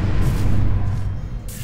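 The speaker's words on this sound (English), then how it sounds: "Yes, I hear the distant explosions." Portal 2 test chamber rumbles with a low, heavy boom, a sustained deep roar with no sharp attack, continuous across under two seconds.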